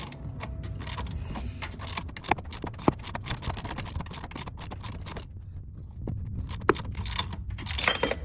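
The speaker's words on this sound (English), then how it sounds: "as it presses off, you'll notice it actually starts to come off a little bit more easily until it's completely free" Metallic clicks, creaks and jangling as a belt tensioner pulley on a 2008 engine is pressed off with a puller kit, with steady mechanical scraping, sharp ticks and a final louder pop near the end, close and without talk.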